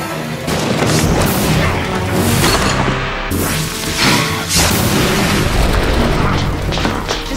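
A loud, booming explosion effect from the TV series Charmed, with repeated heavy crashing bursts and rumbling blasts filling the scene, close and dominant with no talk over them.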